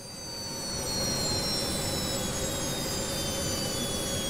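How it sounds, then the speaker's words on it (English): Four jet engines of a DC-8 airliner running in the Aerosoft flight simulator, a steady loud roar with a thin high whine that builds over the first second and then holds constant. "Four engine starts."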